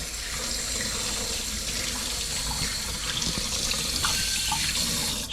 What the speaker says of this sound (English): I'm going to have a little plate with some cold water.